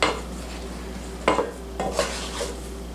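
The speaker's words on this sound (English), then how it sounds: "I'm going to add flour. I'm going to stir with my wooden spurtle" Wooden spurtle stirring flour into a hot choux dough in a pan, giving soft scraping knocks against the pan with a couple of louder thumps, close up over a quiet background hum.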